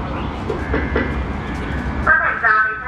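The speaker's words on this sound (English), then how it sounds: "A non-stop train is passing through the station." A non-stop train rumbles through a station at close range with a steady low roar, then brakes and wheels squeal sharply near the end.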